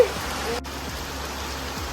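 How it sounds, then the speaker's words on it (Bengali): Heavy rain pours down steadily in a dense, even wash of hiss, loud and close throughout, with a voice briefly audible near the start. "আর কি বৃষ্টি জাস্ট দেখুন,"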